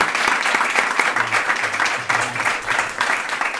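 A crowd applauds steadily, dense clapping filling the room at a moderate, even level throughout.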